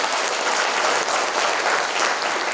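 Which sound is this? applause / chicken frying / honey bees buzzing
applause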